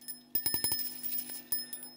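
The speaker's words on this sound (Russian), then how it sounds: "Взял такие колокольчики." Small bells bought at a shop are handled, giving a quick run of light metallic clinks and jingles, then a pause and two more scattered chimes, close and moderately quiet against a faint steady hum.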